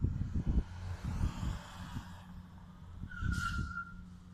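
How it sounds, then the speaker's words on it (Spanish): A Ford Edge 2.0 EcoBoost 4x4 Titanium during a braking test: road rumble and engine noise fade as the car slows, with a short tonal squeal near the end. The level is moderate and no one speaks. "Aquí vamos a hacer una prueba de frenado."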